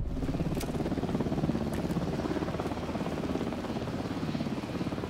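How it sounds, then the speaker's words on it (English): Helicopter in the video game Alan Wake II, a rapid rhythmic rotor chop throbbing steadily at moderate distance, with faint clicks over it. "We got a chopper."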